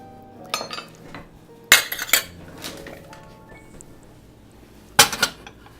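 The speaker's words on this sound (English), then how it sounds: "I'm just going to scrape the sides and make sure it's all mixed up together" A utensil scrapes around the sides of a mixing bowl while home cooking for a tea party, giving a few sporadic clinks and scrapes against the bowl with quiet gaps between.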